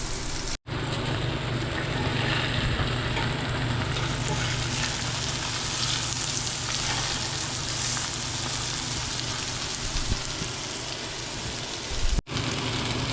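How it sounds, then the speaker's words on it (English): Chicken pieces for chicken parmesan fry in a pan with a steady, loud, dense sizzle that hisses continuously, broken only by two brief cuts. "These are like starting to sizzle."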